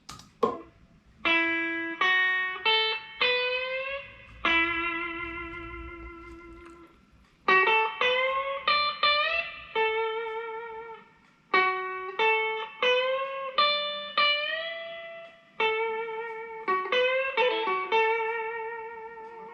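An electric guitar plays blues licks that outline the chord changes, clean, sustained single notes with bends and vibrato, phrased in short bursts separated by brief pauses, with no voice.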